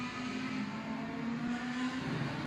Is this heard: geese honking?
no